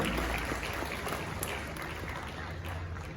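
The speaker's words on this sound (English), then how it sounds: "Shall we show some appreciation with applause, ladies and gentlemen?" An audience at a media awards ceremony in Ghana claps in appreciation, a faint, distant wash of applause with low rumble and some murmuring, fairly even throughout.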